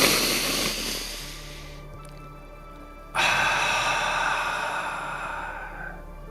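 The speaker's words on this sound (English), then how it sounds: "Nice deep breath in through the nose." A deep breath drawn in through the nose during a guided energy session, a close, airy inhale that tapers off, then a second long rush of breath that slowly fades.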